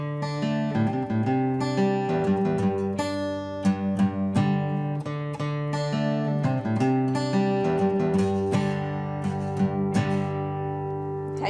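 An acoustic guitar strums a song intro at full speed, a bright, rhythmic run of chords and picked notes played close and alone.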